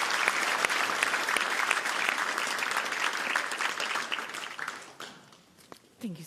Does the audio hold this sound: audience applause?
yes